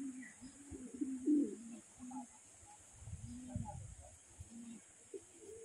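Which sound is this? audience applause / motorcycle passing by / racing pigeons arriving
racing pigeons arriving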